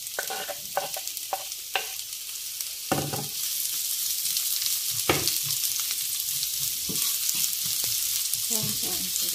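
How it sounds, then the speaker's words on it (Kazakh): Garlic fries in hot oil in a pan for liver, giving a steady close sizzle throughout, with stirring scrapes and clicks scattered over it and no talking. "Сол майдың үстіне қазір сарымсағымызды қуырамыз."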